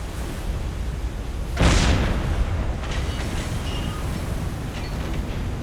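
A single heavy boom of ship gunfire in the Silent Hunter 3 submarine game, one sharp blast followed by a rumbling tail over constant ocean and engine noise, with fainter distant thumps afterward.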